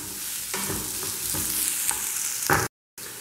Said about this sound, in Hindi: इनको हम 2 से 3 मिनट तक फ्राई कर लेंगे, जब तक कि प्याज का कलर चेंज ना हो जाए।